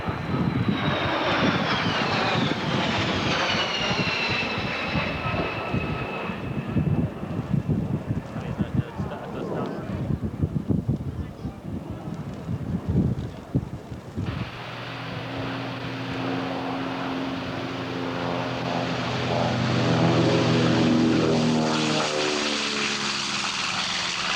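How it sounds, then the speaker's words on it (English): At an airshow, a Boeing 767 airliner of the Ansett fleet roars past with a loud, sustained jet rumble that swells and shifts pitch as it flies by, under a commentator's announcing voice. "Graham Stewart and Bob Campbell in the Boeing 767, the pride of the Ansett fleet"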